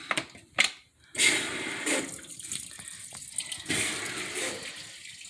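A washing machine fills with warm water, a rushing hiss of inflow with uneven clunks and splashes, close and fairly loud.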